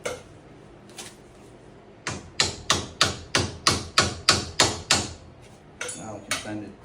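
A hammer strikes repeatedly while fitting a front strut on a 2006 Chevrolet Impala, about a dozen sharp blows in a steady rhythm, close and loud, after a couple of softer knocks at the start.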